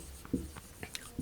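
A marker or chalk writing on a board during a matrices lesson, a few soft scratchy strokes and taps in quick, uneven succession, close and quiet.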